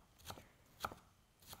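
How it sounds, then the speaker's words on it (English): Vegetables being chopped with a knife on a board for ham and bean soup; three faint, separate chops spaced apart, with near silence between them. "I don't mind chopping vegetables."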